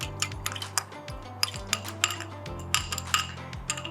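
Spoon stirring sugar into water in a jug, rapid repeated clinks and scrapes against the sides in a steady rhythm, close and clear with no talking.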